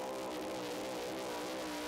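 A 6,200-pound pulling truck roars continuously on a track run at a truck pull in Rock Valley, Iowa, its engine a sustained, fairly distant blare with no one talking.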